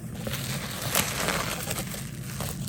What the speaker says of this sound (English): Popping paper.